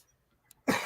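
A single cough bursts out sharply near the end after a brief quiet stretch, loud and close to the microphone.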